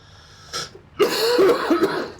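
A short throaty cough, followed by a longer rough burst of coughing and throat clearing, close and fairly loud.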